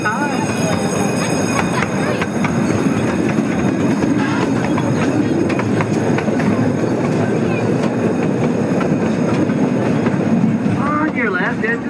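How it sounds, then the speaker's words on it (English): Brackenridge Park miniature train in San Antonio running steadily with continuous rumbling wheels and rattling cars, loud and close throughout, with occasional rhythmic clicks over the track and a voice speaking faintly beneath the noise. "please remain seated while the train is in motion"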